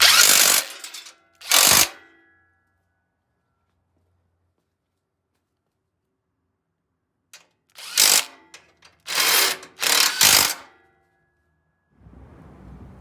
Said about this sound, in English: using your 13 millimeter, we're going to tighten up the side bolts